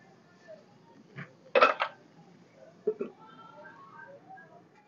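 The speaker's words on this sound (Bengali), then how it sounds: "একটু নাড়াচাড়া করে আমি চাপা দিয়ে দেবো" A few sharp metallic clinks and clatters from a pot and lid while tilapia curry with potato and papaya is stirred and covered, one louder cluster in the middle, then two quieter knocks, with a faint background hum.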